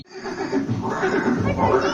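A horse whinnies in a museum scene of Maharana Pratap's horse Chetak: a loud, wavering neigh held for about two seconds, close and prominent.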